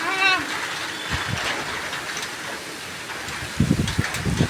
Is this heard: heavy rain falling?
yes